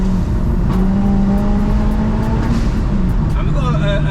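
A 370bhp Mk1 Ford Focus RS with a close-ratio five-speed gearbox accelerating flat out, its engine droning loud and steady with rising harmonics as it pulls through the gears, while someone talks over it from inside.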